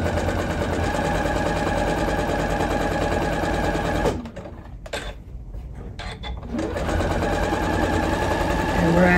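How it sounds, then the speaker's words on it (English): A sewing machine runs steadily and loud while stitching a drawstring tunnel along the edge of a fabric shoe bag. The motor pauses briefly in the middle, then the continuous whirring resumes at full speed. "we're going to backstitch very quickly"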